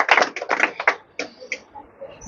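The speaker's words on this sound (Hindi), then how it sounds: "सब ताली मार के स्वागत करेंगे।" A small audience claps to welcome a student, a 12th-grade board topper, honoured at a coaching institute ceremony: a brief run of irregular, close, crisp claps that thin out and fade to a few scattered slaps.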